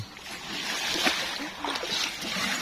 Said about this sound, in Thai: ไปพามากมีลงอาบก่อนนะครับ